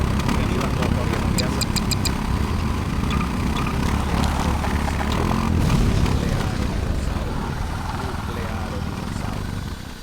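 A motorbike engine idles in Garry's Mod with a low, steady rumble that holds for about ten seconds, loud and continuous, with faint sharp ticks near the start.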